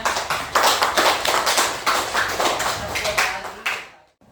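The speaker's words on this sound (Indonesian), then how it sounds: "tepuk tangan untuk semuanya" Schoolchildren in an Arabic lesson clap together for everyone, a steady run of fairly even, close claps for about four seconds before stopping abruptly.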